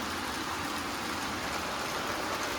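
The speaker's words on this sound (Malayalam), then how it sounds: "ഇപ്പം നല്ല മഴയാണ്, നല്ല വെള്ളം വരാനുള്ള മഴയാണ്" Steady heavy rain pours down without a break, a dense close hiss of water falling continuously with no voices over it.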